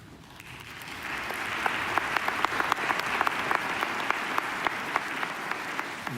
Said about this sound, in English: You might want to save the applause till the end.